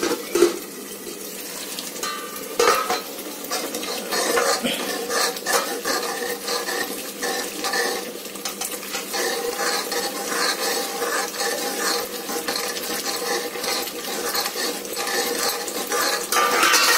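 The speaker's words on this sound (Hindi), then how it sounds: "जब तक ये तेल ना छोड़ दे जब तक हम इसको भूनते रहेंगे" Dal makhani masala frying in oil in a pan, a continuous bright sizzle with spattering crackles and occasional clinks and scrapes of stirring.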